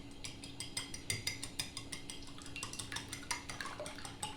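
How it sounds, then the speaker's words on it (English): A whisk clinks rapidly and rhythmically against a bowl while eggs are beaten with milk, quick, fairly faint repeated taps with no talking. "then I'm going to beat the egg"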